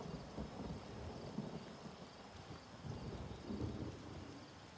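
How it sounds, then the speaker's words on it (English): A coastal thunderstorm in The Elder Scrolls Online, with steady rain hiss and low rolling thunder rumbling throughout at moderate, distant loudness. "I can help calm the storm that hugs the coast"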